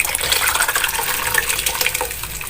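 Dry lentils tumble out of a container into a cooking pot in a home kitchen, a continuous rushing, pattering pour with scattered bright clicks, fairly close and unbroken, with no voices.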